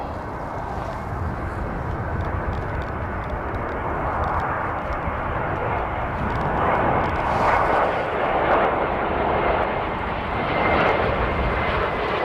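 Fixed-wing airplane landing in strong wind at Christchurch International Airport in wet weather, a loud continuous engine roar with swelling and fading surges, mixed with wind buffeting throughout.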